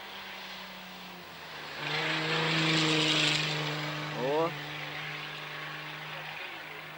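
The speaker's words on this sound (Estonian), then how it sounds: "Kes see lennuk on?" A propeller airplane passes over a winter rally stage, a steady droning engine hum that swells and fades over several seconds, heard from a distance with faint background noise.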